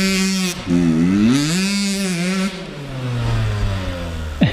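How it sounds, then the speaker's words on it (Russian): An enduro motorcycle revs loudly and close by while climbing a sand hill. The engine whines up and down in pitch in several surges, then settles into a lower, steady drone. "Это мотоцикл для мужиков, он любит газ."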